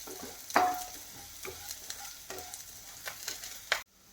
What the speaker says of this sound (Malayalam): ഇതൊക്കെ കൂടി ഒന്ന് ചെറുതായിട്ട് മൂക്കട്ടെ